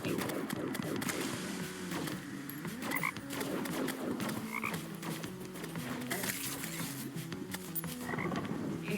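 Toads croak over and over in Terraria's Calamity mod, a dense chorus of rapid, overlapping ribbits at moderate volume with short clicky bursts scattered throughout.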